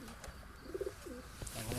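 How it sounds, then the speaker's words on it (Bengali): Pigeons in a cold-weather loft sheltered with sacking, nesting on eggs in a corner, give a few soft low coos, close and fairly quiet, over a faint steady background. "পায়রাগুলো কোনায় ডিম পেরে বসে আছে"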